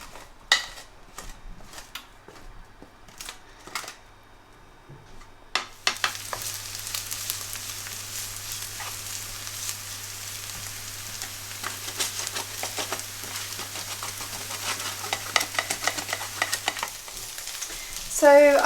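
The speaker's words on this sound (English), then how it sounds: "So I've now just got the onions in the pan" Onions sizzle loudly in a pan once they go in, a steady hiss with occasional stirring scrapes, after a few sharp clacks of utensils at the start.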